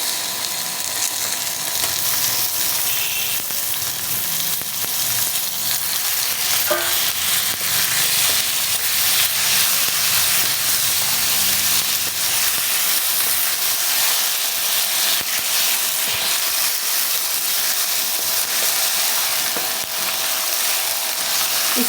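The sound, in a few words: meat frying in pan with ginger garlic paste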